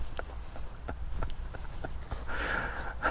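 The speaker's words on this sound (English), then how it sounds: "there is what looks like an agitated horse in this field." An agitated horse moves in a field near Rushford Bridge on Dartmoor, its irregular hoof thuds falling at a moderate distance over a soft outdoor background, with a brief rise of rustling noise near the end.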